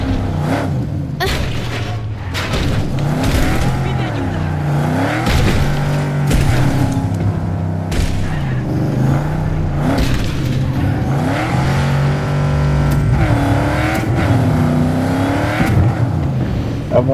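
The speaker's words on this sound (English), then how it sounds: "I can't drive this car in first person" A car's engine in the video game Cyberpunk 2077 revs and shifts continuously, rising and falling in pitch with booms and tire squeals, loud and up close.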